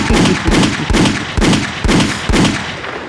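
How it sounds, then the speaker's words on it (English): Six evenly spaced gunshot blasts, loud and booming, each with a sharp crack and rolling tail, repeating about every half second with no voices. "where the gunshots at"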